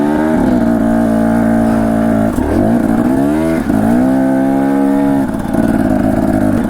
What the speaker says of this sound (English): The bike bogged right here.